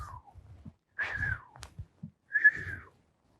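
A person whistles in short falling and steady tones, imitating a passing bullet, with soft breathy mouth sounds between the whistles.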